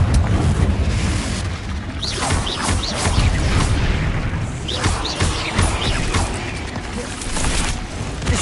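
Confringo blasting spells burst in a cave in Hogwarts Legacy amid dense crashing and rumbling debris. Repeated impacts and cracking smashes follow closely, loud and continuous throughout.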